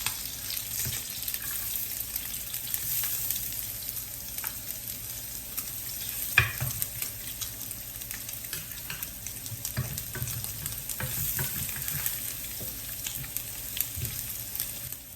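Ground pork and garlic frying in a pan for pork belly fried rice, a steady close sizzle with scattered stirring scrapes and clicks throughout, no talking.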